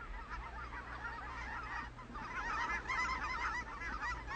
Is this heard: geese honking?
yes